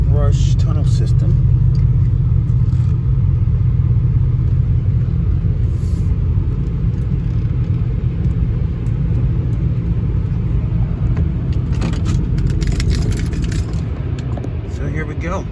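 From inside a car riding a conveyor through a brush tunnel car wash in Mokena, Illinois, a constant low rumble fills the cabin, joined near the end by swishing, slapping brushes and spray against the body.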